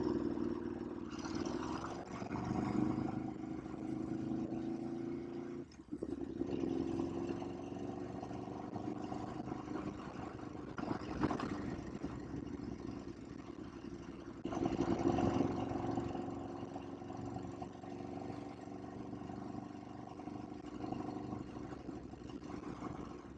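An Aprilia RSV4 motorcycle rides in second gear at about 25 mph, its engine giving a steady mid-pitched drone that swells and eases slightly, with a brief dip near the middle and a stronger surge toward the end.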